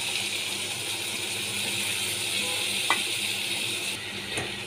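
Spice paste of ground coriander and chili soaked in water, poured into a hot pan to fry for a fish curry with shola kochu, giving a steady, fairly loud sizzle with a few faint clinks near the end.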